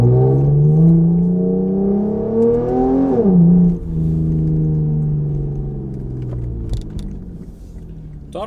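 A Lexus IS fitted with an RR-Racing intake tube drives on the road, its engine note climbing steadily through a loud rev, dropping sharply at a gear change, then settling into a steady cruising drone, close and continuous with no talk.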